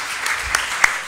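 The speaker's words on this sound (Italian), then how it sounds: "io penso che sia giusto salutarli con un applauso per il loro impegno" A hall audience applauds Impegno Civico members of parliament at a political launch event with a brief burst of steady, dense clapping.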